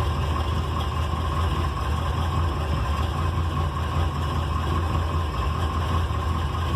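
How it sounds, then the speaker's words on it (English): A car engine idles low, around 600 RPM, just after a cold start, a steady close mechanical hum and rumble that holds even and unbroken with no voices over it. "When he first starts up, he idles a little bit low. It's about 600 RPM."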